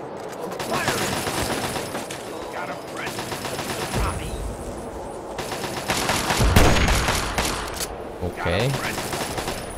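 Gunfire in the video game Fallout 3, with bursts of shots and rapid automatic fire spread across the scene, louder in the second half, while someone talks briefly over it.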